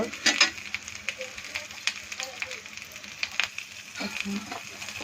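Fish frying in hot oil in a kadai gives a soft, steady sizzle with scattered crackles and pops, faint and close, with light kitchen clatter in the background.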